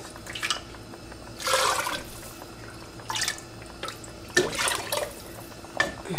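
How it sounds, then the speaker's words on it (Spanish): Meat broth poured into a blender glass gives several short splashing pours with gurgles and drips between them, close by. "le voy a echar tantito caldo de de la carne al vaso"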